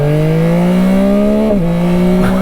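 Yamaha Tracer 9 GT motorcycle with the Y-AMT automated gearbox, its steady engine drone rising under load and then dipping briefly as a gear change goes through, loud and close with no talk.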